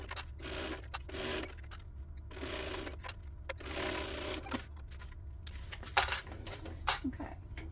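Sewing machine stitching a seam on a fabric hip bag, heard as several short whirring runs between pauses and light clicks, close but fairly quiet, no talk.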